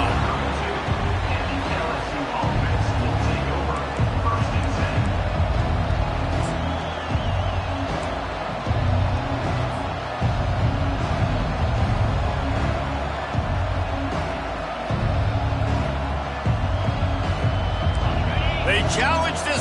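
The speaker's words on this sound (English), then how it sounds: "They challenge this crowd to bring the energy, and I'd say they're doing that." A football stadium crowd roars steadily through a game, a constant loud wash of cheering and noise with commentators talking over it throughout.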